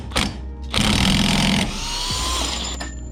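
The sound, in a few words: impact wrench with 32 socket removing axle stub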